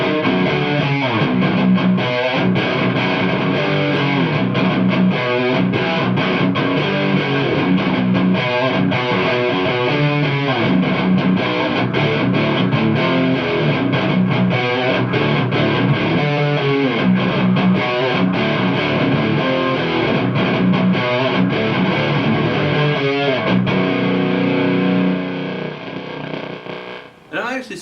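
An electric guitar through a boosted Splawn Nitro amplifier chugs with heavy, bottom-heavy distortion, playing continuous riffs at high volume for almost half a minute, then cuts off abruptly at the end.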